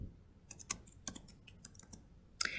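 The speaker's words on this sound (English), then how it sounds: "I'll just type fairy tales for now." Typing a search on a computer keyboard: a few quick, faint key clicks in short clusters, close to the microphone in a quiet room, with a sharper cluster near the end.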